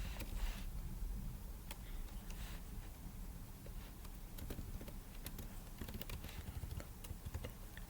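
Rapid, quiet keystrokes on a computer keyboard as code is typed, an irregular close patter of clicks running throughout with a low background hum.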